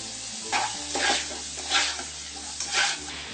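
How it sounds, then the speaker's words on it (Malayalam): Rice dish ingredients sizzle in a pan with salt added while a utensil stirs through them in four scraping strokes over the steady frying hiss, close and fairly loud. "ഒന്ന് ഇളക്കി കൊടുക്കാം."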